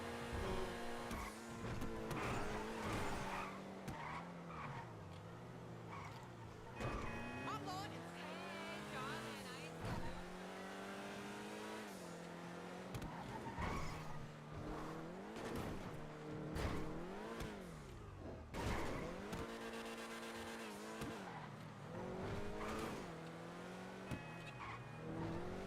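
Race cars tearing through a Lunar New Year stunt race in GTA Online with nitrous boost, engines revving and swooping in pitch with tire squeals, loud and continuous alongside game music.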